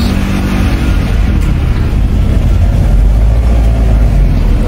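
A 1992 Mitsubishi Galant GTi 2.0 with a badly misfiring engine, heard as a loud, close, rough and uneven running drone with lumpy low rumble throughout and no talking.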